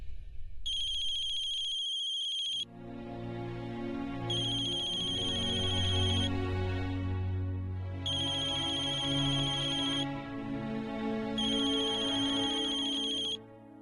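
Repeated electronic ringback tones on an outgoing phone call, four long even bursts separated by pauses, loud and clear over a low sustained musical background.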